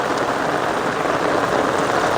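Steady rain pours down in a Gujarati village during the monsoon, a dense, even hiss close by with no break and no voices.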